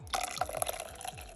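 Milk and melted butter pour into custard pie filling in a short, close, liquid splash and trickle with a few drips.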